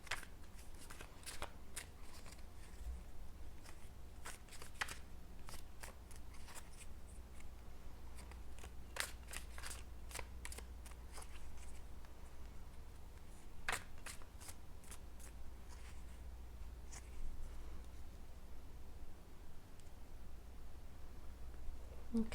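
Tarot cards shuffled by hand in a steady soft riffling and rustling that runs the whole time, close and fairly quiet, with no voice.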